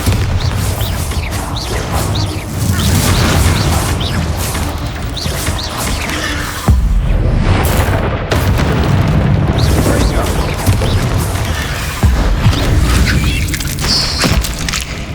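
Bombarda spell blasts in the video game Hogwarts Legacy, a dense run of loud, booming explosions and crashing debris that rumble almost without pause, with a couple of sharper hits standing out.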